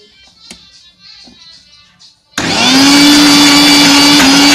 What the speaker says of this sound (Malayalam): ഫ്രൈ ചെയ്ത സവാള, എടുത്തു വെച്ച തൈര്, അണ്ടിപ്പരിപ്പ് ഇവ 3 ഒരു മിക്സിയുടെ ജാറിലിട്ട് നന്നായി